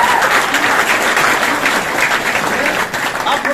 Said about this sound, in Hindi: अपनी तालियां बजा ले एक बार।